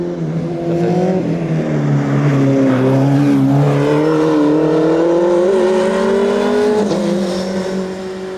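A Formula Renault 2.0 race car accelerates hard, its engine note climbing loud and close through the gears with brief dips at each shift, a continuous high-revving roar without talk.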